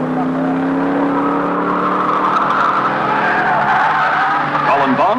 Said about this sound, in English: enough to put him too far back to catch the Bond Holden as it heads for the checkered flag